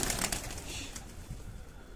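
Pigeons on a rooftop give soft, low cooing through a steady outdoor hiss, with faint higher chirps early on; the calls are moderate and continuous, no one speaking.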